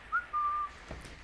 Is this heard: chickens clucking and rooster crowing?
no